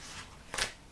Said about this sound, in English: But I'll take them back and continue shuffling.